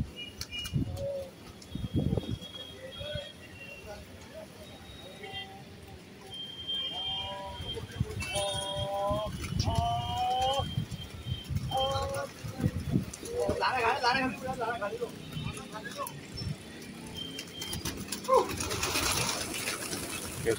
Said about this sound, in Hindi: ये कबूतर निकल गए बाहर जाल से